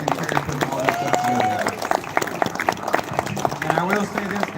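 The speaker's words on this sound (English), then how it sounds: "Let's give a round of applause to Mike and Terry for all this stuff" Crowd at a Midwest YouTube meetup clapping, with cheers, whoops and voices mixed in under scattered loud claps.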